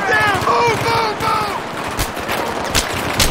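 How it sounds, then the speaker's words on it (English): Rapid bursts of automatic gunfire in the Battlefield 3 video game crackle through the second half, loud and close, after a stretch of voices talking over steady combat noise. "Start shooting."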